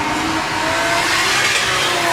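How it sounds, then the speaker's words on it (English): An E92 BMW M3 drift car fitted with a 2JZ engine at full throttle during a drift competition, a loud, continuous, close engine roar mixed with tyre noise. "E92 BMW M3."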